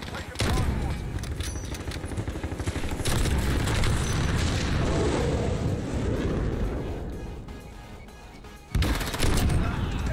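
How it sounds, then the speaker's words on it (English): Loud, continuous barrage of explosions and gunfire from an airstrike in the Modern Warfare video game, with rumbling booms throughout, a brief lull near the end, and then another blast; a player talks over the battle. "Airstrike coming in."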